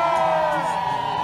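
A group of visitors on a winery tour shouts and whoops together on cue, a short loud burst of crowd cheering.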